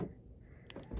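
A minivan's power sliding door moving, a faint motorized whir with a soft thud near the end, close by, with no talking.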